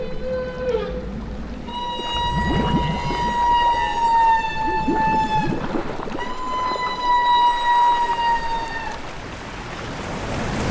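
Humpback whales give long, eerie tonal calls while bubble-net feeding on herring, several sustained wails with slowly shifting pitch, over a rushing underwater wash of bubbles and water.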